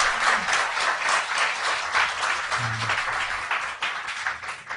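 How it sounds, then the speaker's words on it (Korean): Audience applause at a Korean talk show about the Sewol ferry, steady dense clapping from a crowd lasting several seconds, fairly loud and close with no talk over it. "자, 박수 한번 부탁드립니다."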